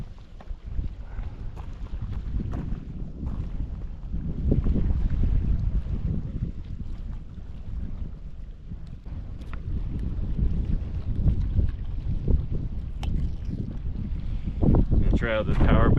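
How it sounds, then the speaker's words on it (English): Wind blowing by a lake during a camping and fishing trip at Navajo Lake, Utah, a steady low rumble of gusts buffeting the microphone throughout, with a person talking at moments over it. "A little breezy out here."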